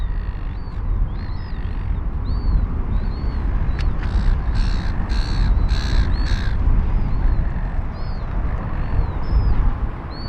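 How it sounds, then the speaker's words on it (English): Several crows caw repeatedly outdoors near Sydney Airport, harsh calls in short bursts against a steady loud background roar, no voices. "They're not cool sounding birds, they're annoying."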